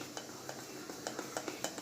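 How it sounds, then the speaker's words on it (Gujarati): Chili bhajiya batter with rice flour and soda being stirred in a bowl, producing a soft, steady wet mixing sound with faint regular taps of the spoon against the bowl, close and quiet. "હવે બધું સરસ મિક્સ કરી લઈશું"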